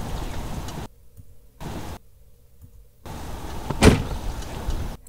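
A car door thumps shut once as a man climbs into the car, a single close impact against steady outdoor hiss that drops out in silent gaps.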